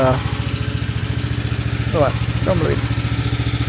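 A 1.5-ton mini excavator engine idling at raised revs during break-in, a steady close rhythmic diesel chug throughout, with a couple of brief voice-like chirps over it midway.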